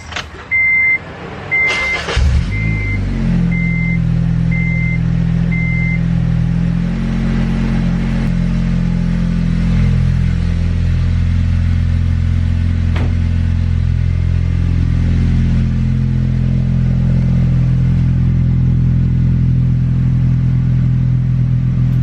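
A modified car engine cranks and fires up after a few chimes, then settles into a loud, deep, steady rumble that keeps running.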